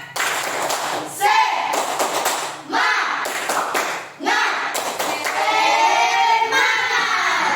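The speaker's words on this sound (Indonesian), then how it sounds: "Dan lakukan tepuk semangat ya." A classroom of schoolchildren standing to perform rhythmic spirit clapping, bursts of sharp hand claps in patterned groups separated by brief pauses, close and loud, with children's voices mixed in.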